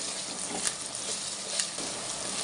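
Mullet fish frying in a clay pot gives a steady, moderate sizzle with faint crackles throughout, no voices.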